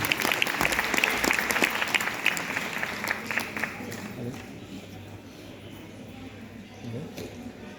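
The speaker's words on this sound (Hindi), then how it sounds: "जितेंद्र सर की तालियां होनी चाहिए" Audience applause at a motivational success-speech show in Shahjahanpur, honouring Jitendra sir: a crowd clapping loudly at first with sharp individual claps, then fading into low room murmur and voices.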